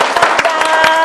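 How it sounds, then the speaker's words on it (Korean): Church congregation clapping in a short, close burst, quick overlapping claps with voices mixed in. "우리 집사님을 위해서 큰 응원의 박수 드리겠습니다"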